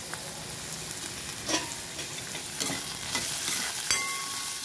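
Half a ladle of oil tempering sizzles in a pan over medium heat for red amaranth bhaji, a close, continuous crackling fry broken by a few soft stirring scrapes.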